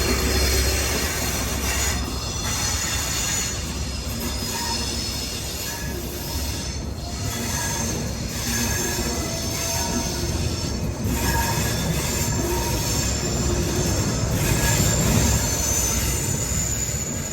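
An HST 125 train pulls away from Bristol Temple Meads bound for Penzance, its wheels squealing steadily over a continuous loud rumble of rail noise that lasts throughout.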